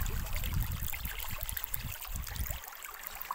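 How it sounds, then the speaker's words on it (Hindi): Water flows beneath dry rocks, a soft, close trickling and gurgling that runs continuously for a few seconds with no voices over it. "इसमें ऊपर से खुश्क और नीचे पानी बह रहा है"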